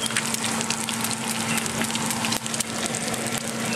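Bacon frying in a pan, a dense continuous sizzle and crackle with a faint steady hum underneath, close and fairly loud throughout.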